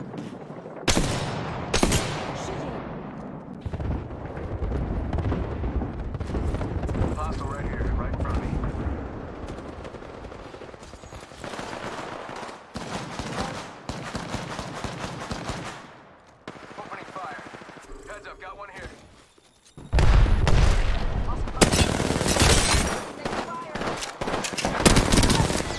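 Heavy, sustained gunfire from Apex Legends fills the scene in dense automatic bursts, with brief lulls and a loud renewed barrage near the end, as voices talk intermittently underneath.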